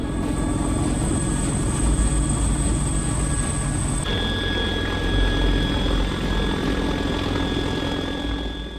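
A CH-53K King Stallion heavy-lift helicopter of the U.S. Marine Corps roars loud and continuous, its dense rotor and turbine noise steady throughout and marked by a whining engine tone that shifts partway through.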